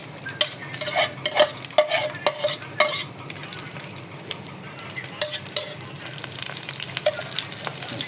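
Egg frying in a pan, a steady crackling sizzle with bursts of stirring and spatula scrapes near the start, settling into a softer continuous fry later.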